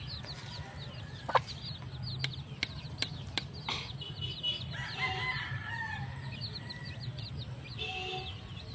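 Backyard chickens cluck continuously at a garden, joined by a rooster crowing and a few sharp knocks nearby, all over a low steady hum with no talking.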